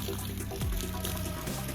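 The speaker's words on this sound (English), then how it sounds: "you want to let the water run" Water running from a garden hose hooked to a power washer, a steady splashing gush at moderate volume with a brief gurgle partway through, no voices.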